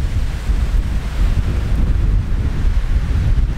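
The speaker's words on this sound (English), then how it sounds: "The wind's still pretty strong, but it did drop down a lot." Strong wind gusting outdoors on a lake in Nova Scotia, a steady loud roar and rumble buffeting the microphone throughout, with a wash of water underneath and no voices.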